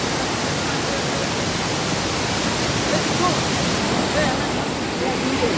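Bheli waterfall in heavy monsoon flow gives a loud, steady, unbroken roar of rushing water that fills everything, close and constant throughout.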